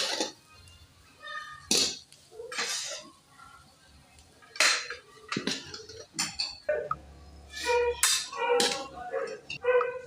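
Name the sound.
halwa being dished out from the pot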